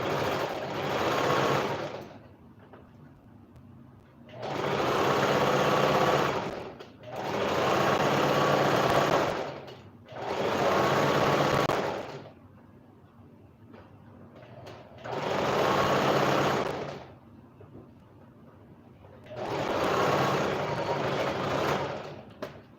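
An electric sewing machine stitches Ankara fabric at a half-inch seam in six steady whirring runs of a few seconds each, separated by short pauses, close and fairly loud.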